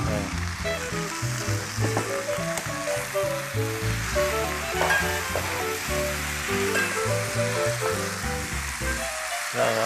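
Ingredients are stir-fried in a hot wok at an old restaurant kitchen in Beipu, with a loud continuous sizzle and frequent clattering, scraping spatula strokes.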